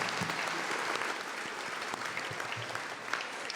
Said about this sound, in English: here comes my mandatory applause.